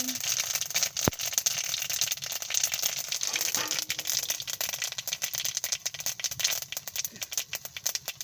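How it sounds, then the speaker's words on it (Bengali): Dense, rapid crackling and popping of mustard seeds spluttering in hot oil, continuous and close, with a sharp clink near the start. "সরিষাটা ফুটছে।"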